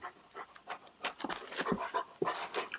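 A big dog pants in quick, uneven breathy bursts close by, with a few soft whimpering tones mixed in, fairly quiet against a still room.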